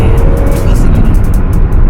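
Sports car engine droning loud and close while driving, a steady rumbling hum with faint rhythmic pulses, and a voice briefly audible under it.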